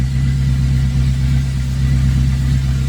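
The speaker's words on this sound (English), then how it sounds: "It sounds like valve clatter." An LS-swapped Chevrolet Tahoe engine idles steadily and loudly up close, with a continuous low hum and a faint ticking layer of valve clatter running through it, no talk.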